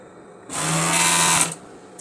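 An overlock sewing machine stitches the shoulder seams of a polo shirt in one bright, buzzing burst of about a second, starting and stopping abruptly against near silence.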